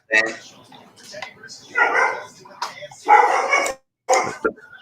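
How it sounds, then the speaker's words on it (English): Dogs bark and yip in several uneven bursts, up close and fairly loud, with short gaps between, mixed with talk. "Dogs are coming out."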